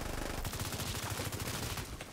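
Gunshots in the video game The Division 2, a fast automatic burst of close, loud shots in a steady rhythm that lasts only a couple of seconds.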